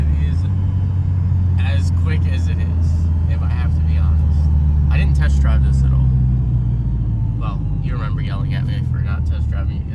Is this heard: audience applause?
no